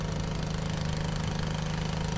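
A 22 hp Briggs & Stratton engine on a log splitter runs at a steady, close, loud drone with an even low throb and no breaks.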